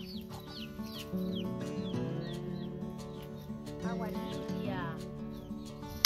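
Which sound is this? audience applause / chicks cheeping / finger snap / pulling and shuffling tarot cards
chicks cheeping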